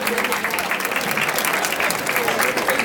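An audience at a school parent breakfast applauds math and physics students, a dense, steady round of clapping filling the room for the whole stretch.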